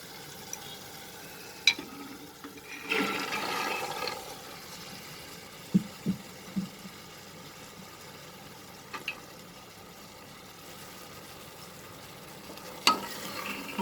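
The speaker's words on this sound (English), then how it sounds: "Saute this for 2 minutes with the spices over medium flame." Black chickpeas (kala chana) stirred and sautéed with spices over a medium flame, giving a quiet, steady sizzle with a louder burst of stirring early on and a few sharp utensil clicks scattered throughout.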